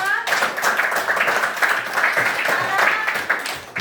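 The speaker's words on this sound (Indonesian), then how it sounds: "Oke, tepuk tangan untuk kelompok 2." A primary school class claps for a presenting group in a classroom, a dense, steady round of many hands lasting the whole few seconds, close and loud.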